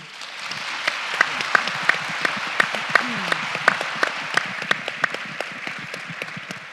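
A conference audience at the University of Michigan Women of Color Task Force career event welcomes the keynote speaker with loud, sustained applause, with many hands clapping and crisp individual claps standing out from the dense wash.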